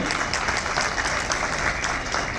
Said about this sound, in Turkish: Onları da hep birlikte alkışlayalım